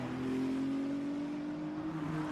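Ferrari Challenge race cars on the final lap at Suzuka, a steady, fairly faint engine drone with a sustained tonal whine.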